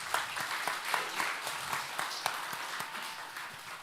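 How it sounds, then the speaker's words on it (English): An audience at a business college lecture at KAIST gives a steady round of applause, many hands clapping together in a moderately loud, continuous wash with small sharper claps rising above it. "please welcome him with a big round of applause"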